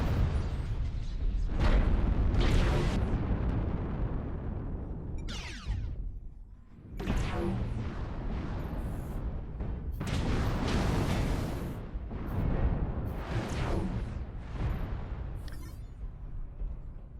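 Several heavy booms sound as missiles explode in a video game, each a loud low burst with a rumbling tail. They come in an irregular sequence over a dense, continuous game soundscape, and no one speaks.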